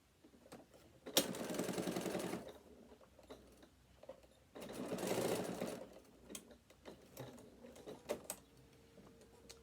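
A sewing machine stitches bag strap connectors in two close, steady whirring bursts of a couple of seconds each, separated by quieter handling clicks and fabric shifting.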